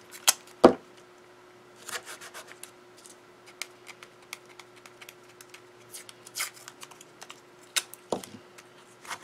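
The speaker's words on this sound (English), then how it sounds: "we're going to use temporary tape to tape down" Temporary tape being pressed and smoothed down along the four sides of a stencil for cardmaking, heard as scattered soft rubbing and tapping sounds with a few sharper clicks, close and fairly quiet, no talking.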